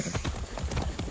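Horse hooves in Far Cry 6 clip-clop in a quick, steady run of close, loud footfalls filling the whole short moment.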